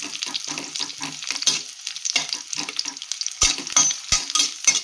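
Onions frying in a pan for corn biryani, with crackling sizzle and repeated scraping stirs in an irregular rhythm, close and fairly clear, no talking.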